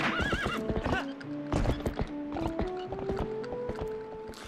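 Rhythmic hoofbeats clip-clop along while a horse neighs and whinnies in The Legend of Zelda: Twilight Princess HD, with game-like tones and chimes layered over the hooves.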